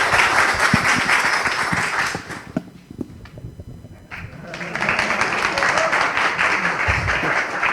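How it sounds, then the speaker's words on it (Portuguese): An audience claps steadily for a speaker at a Laravel tech talk. The applause dips briefly in the middle, then swells again, with a few voices mixed in. "Então, uma salva de palmas para o VED."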